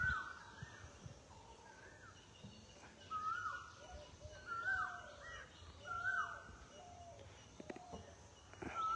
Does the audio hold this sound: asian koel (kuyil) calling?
yes